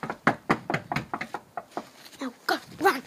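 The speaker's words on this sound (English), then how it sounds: "You close the door, then you knock." Series of sharp knocks on a house door, about a dozen quick raps in uneven bursts, close and loud, with a few soft voices in between.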